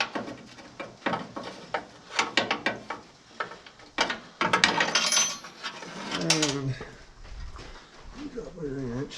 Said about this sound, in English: Drop my wrench.